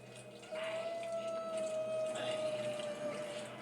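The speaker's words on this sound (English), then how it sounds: "There's the lounge singing Shrieker in the bar area, who, before being alerted, entertains herself by belting out a ditty." A Shrieker zombie in the bar area of Resident Evil Requiem belts out a wavering, sustained sung tone, steady and fairly loud over a low droning background hum, lasting about three seconds.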